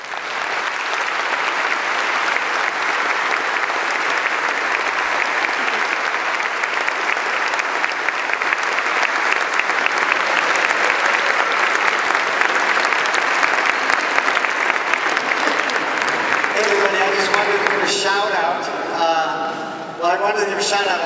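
An audience applauds after a woman's testimony on abortion, dense sustained clapping that holds steady and loud for most of the time before a voice begins speaking near the end.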